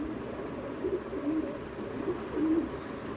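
Soft, low cooing of a high-flying breeder pigeon repeated a few times, gentle and close, over a quiet background hum.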